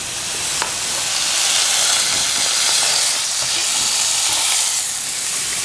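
A pork loin browns in a dry, oil-free pan preheated over medium heat, giving a loud, continuous sizzle and hiss that holds steady throughout with no voices.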